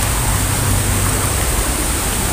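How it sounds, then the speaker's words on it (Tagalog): Creek water rushes in a steady, loud, broadband roar close by, an unbroken flowing wash with no talking over it. "Dito tayo sa sapa."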